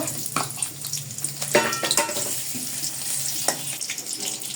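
Chopped onions sizzle in hot oil with a bay leaf in a wok while cooking chicken keema biryani, giving a steady hiss broken by a few sharp clatters and stirring sounds.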